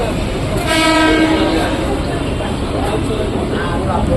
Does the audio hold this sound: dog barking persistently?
no